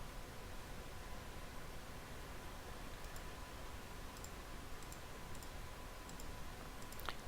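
A computer mouse gives several sharp, faint clicks spaced out over a steady background hiss, near and quiet, with no voices.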